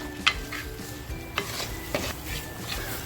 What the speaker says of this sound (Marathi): छान असा खमंग परतवून द्यायचा या चरबीबरोबरच